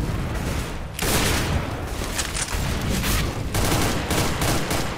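Dense, continuous gunfire fills a Counter-Strike: Global Offensive match, with sustained bursts of rapid shots running almost unbroken apart from a brief lull, loud and close throughout.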